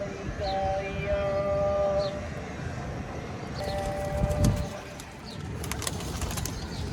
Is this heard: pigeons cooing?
yes